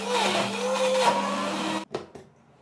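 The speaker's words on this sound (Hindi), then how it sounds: "बस अब इसे ग्राइंड कर लेंगे।" An electric blender grinds oranges with black salt, a loud steady whirring drone with a shifting pitch that cuts off abruptly, followed by a couple of brief clunks as it stops.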